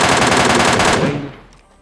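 Rapid automatic gunfire from PUBG Mobile Lite gameplay, a loud close burst of shots that stops abruptly and fades out, with no talk.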